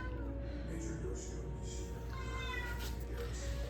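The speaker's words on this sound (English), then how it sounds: "Hey, cat." A cat gives a few faint, thin meows in a home kitchen over a steady low hum, with the cries rising briefly near the end.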